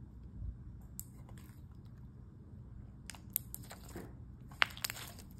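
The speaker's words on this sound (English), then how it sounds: "This slime was clicky" Clicky, stretchy slime is squished and played with by hand, making faint scattered clicks and crisp little pops over quiet background hiss.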